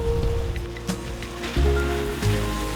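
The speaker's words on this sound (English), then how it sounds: "Weather is absolutely apocalyptic. It's raining fit to bust." Heavy rain pours down outdoors around a Mercedes EQG electric G-Wagen, a steady loud wash of water with low rumbling and occasional splashes.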